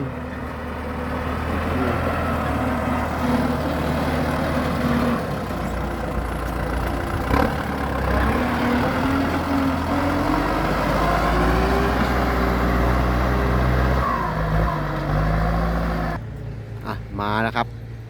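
A heavy tractor engine drones steadily up close, with low rumbling and shifting pitch, while voices talk over it throughout.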